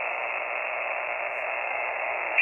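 Ham radio audio plays loud through an external speaker turned up to maximum volume, a steady band-limited hiss with no clear speech, continuous from start to finish.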